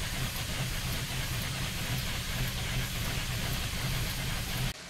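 A train runs along a rail line, a loud continuous rumbling hiss with a regular clattering pulse underneath, steady throughout before cutting off abruptly at the end.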